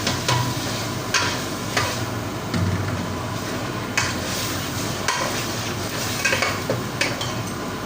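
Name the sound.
chana dal being fried and stirred in a pan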